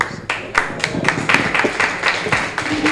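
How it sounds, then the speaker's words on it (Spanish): Audience applause for Manuel at a formal event, a burst of many hands clapping in a quick, dense, fairly close rhythm that holds steady for a few seconds with no talking over it. "Vamos a darle un fuerte aplauso más a Manuel."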